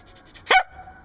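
A female Keeshond gives a single short, sharp bark, close and fairly loud against a quiet indoor background.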